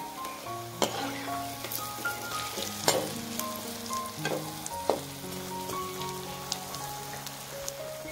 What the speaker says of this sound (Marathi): तर तेलामध्ये जे आहे ते आपण आता हे छानपैकी तळून घेणार आहोत